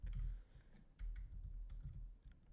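Fingers typing on a computer keyboard, a quick run of soft close key clicks in uneven bursts over a low background hum.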